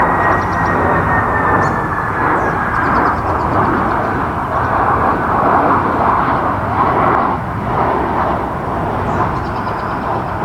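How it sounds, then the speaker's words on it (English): A low-flying airplane approaches to land, a loud sustained engine roar with a rising whine that persists throughout, heard close overhead outdoors. "the freaking plane is coming"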